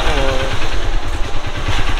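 A Honda CB 150F motorcycle engine idles with a steady low rumble throughout, close by, under people talking.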